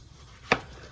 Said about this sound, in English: I'm gonna go ahead and slice up one Roma tomato